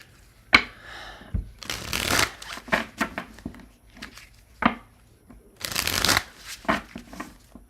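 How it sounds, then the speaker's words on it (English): A deck of tarot cards is shuffled by hand in several brisk, close riffling bursts separated by short pauses, with no talking. "I'm going to shuffle"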